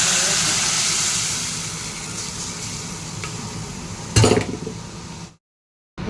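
Lentils poured into a hot pan, steady sizzling and bubbling with a sharper burst of sizzle and clatter near the end before cutting to silence.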